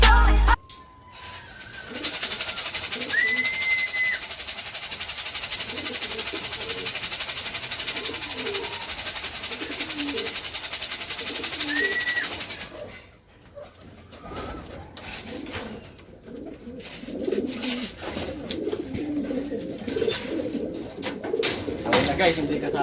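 Racing pigeons coo repeatedly in a loft during an invitational race, low throaty calls pulsing steadily up close, with wind or handling noise and occasional voices mixed in.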